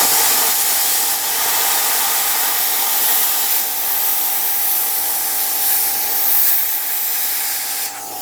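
A BestArc BTC500DP plasma cutter running on 120 volts cuts into 1/2 inch steel plate, producing a loud, continuous hissing rush with a steady electrical hum beneath it and no speech.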